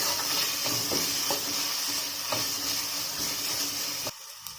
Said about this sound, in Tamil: நல்லா இஞ்சி பூண்டு விழுது பச்சை வாசனை போகிற அளவுக்கு வதக்கிட்டுக்கோங்க.